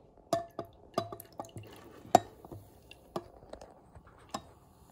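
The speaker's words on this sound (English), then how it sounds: "Now pour the lemon juice." Lemon juice is poured little by little onto naphthalene balls, giving a sparse series of faint drips and small glassy ticks at irregular intervals in a quiet room.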